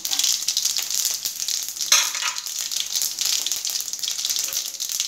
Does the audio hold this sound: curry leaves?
yes